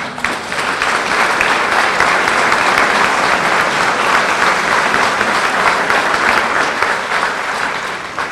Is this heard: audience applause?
yes